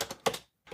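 Quick typing on a computer keyboard, a few close, crisp key taps in short bursts with a brief pause, heard alone.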